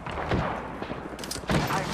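Gunfire in the video game Apex Legends comes as two loud bursts, one early and another a second later, with quieter rumbling between and no speech.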